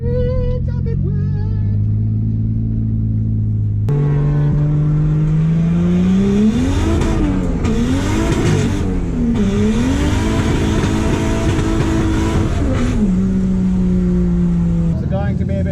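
A drift car revs hard and skids on a wet track at an autumn drift event, engine pitch rising and falling in waves over steady loud rumble, with voices over it.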